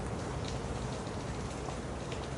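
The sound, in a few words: rain falling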